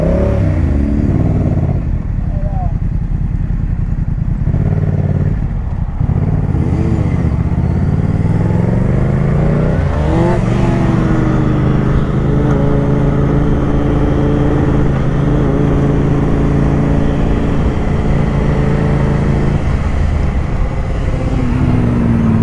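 A Yamaha MT-07 motorcycle accelerates hard through first gear, its engine note rising loudly and steadily before settling into a sustained high drone, close and uninterrupted.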